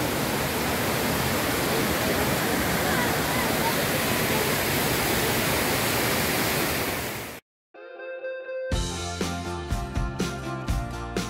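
A large waterfall in the mountains of Abkhazia pours as a loud, steady broadband roar for about seven seconds, then cuts off abruptly into a brief silence before a different tonal sound starts.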